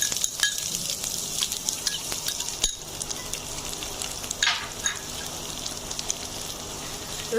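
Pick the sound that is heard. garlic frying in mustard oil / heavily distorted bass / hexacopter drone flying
garlic frying in mustard oil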